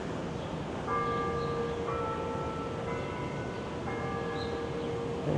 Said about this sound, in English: you can hear the bells ringing here at TMU